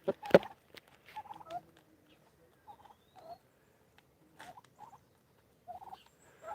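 Turkeys gather at a feeder, giving short scattered gobbles and clucks with quiet gaps between them, fairly close but soft, with a sharp knock near the start.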